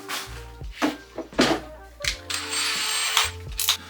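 A power drill with a Forstner bit whirs into wood in several short bursts, with brief pauses and a longer steady run, close by and fairly loud.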